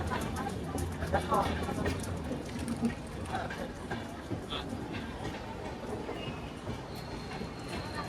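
Crowded Kalyan railway station in the morning hums with crowd chatter, footsteps and a rolling train in the background, with voices talking throughout.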